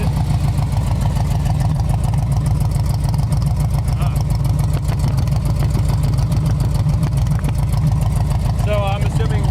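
A 1972 Chevy C10 Custom engine with no exhaust fitted runs loud and steady close by, a heavy rumbling idle with clattering texture throughout, while people talk over it.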